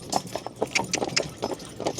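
Hooves of a Percheron draft horse mare team clip-clop at a trot, irregular overlapping strikes close by, moderately loud, with no talking.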